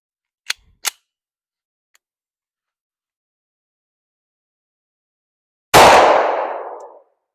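CZ-52 pistol firing Winchester 85 grain 7.62x25 Tokarev: two sharp, close metallic cracks in quick succession, then after a pause one loud blast that rings and decays over about a second.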